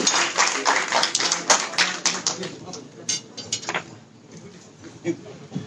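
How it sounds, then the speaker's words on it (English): Audience at a sports club kit launch and gala dinner applauding a guest, a dense patter of many hands clapping that gradually thins and fades to scattered claps. "Can we have a big round of applause?"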